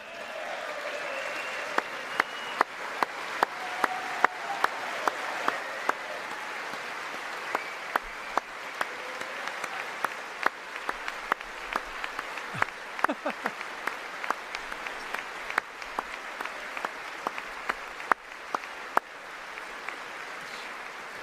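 Audience applause in the chamber at the 2020 State of the Union address, a sustained wash of clapping with sharp individual claps poking through, holding steady at moderate level throughout.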